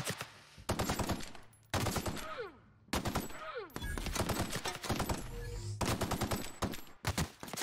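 Enemy gunfire bursts loudly in The Outer Worlds in rapid automatic volleys. The bursts are separated by brief gaps and come with sweeping whooshes and impacts. A voice can be heard faintly at times.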